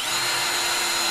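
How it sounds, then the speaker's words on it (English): A power drill drives screws into a minivan kitchen countertop, a loud steady motor whine held close and continuous throughout, with no talking. "So I'm putting my last couple screws in here."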